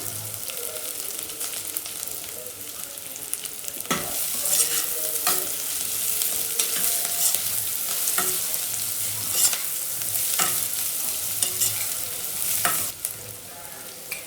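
Ingredients for pulao fry in a pressure cooker, a continuous bright sizzle broken by regular stirring scrapes and knocks of a spoon against the metal pot, close and fairly loud without voices.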